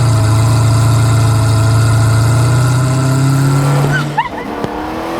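A powerful Lamborghini Aventador engine holds a loud, steady drone that climbs slightly in pitch, then cuts off abruptly with a few sharp pops and clicks.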